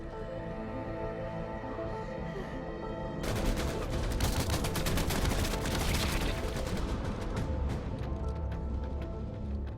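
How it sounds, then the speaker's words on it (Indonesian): Gunfire crackles in a zombie-outbreak film scene during a total worldwide blackout, starting abruptly after a tense musical drone and continuing as rapid, dense bursts of shots layered over the score for several seconds. "Tembakan mulai dikeluarkan"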